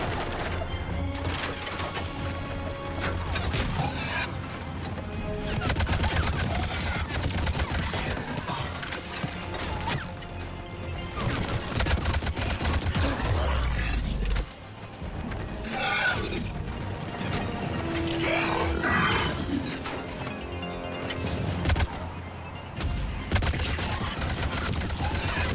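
Assault rifle gunfire in the sci-fi shooter Mass Effect 3, dense sustained volleys of shots mixed with loud battle noise, music and effects through the whole stretch.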